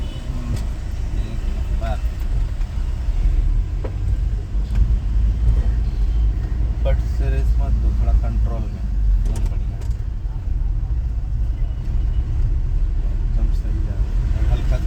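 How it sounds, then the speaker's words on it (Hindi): Car engine rumbling steadily during a driving lesson as the clutch is eased out, a continuous low hum running throughout with an instructor's voice talking over it. "हार्दिक भाई, धीरे धीरे छोड़ो क्लच, धीरे से छोड़ो, एकदम फाइन"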